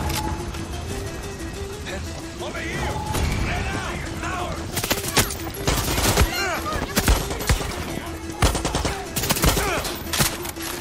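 Heavy automatic gunfire and explosions in Far Cry 6 during a battle for Esperanza, sustained loud bursts with sharp cracks and booms, accompanied by talking and background game music.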